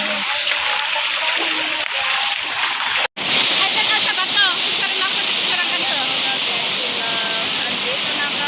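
A rushing waterfall at a countryside swimming spot roars in a steady, loud broadband wash, with voices talking over it in the first few seconds before a brief cut and then continuous falling water.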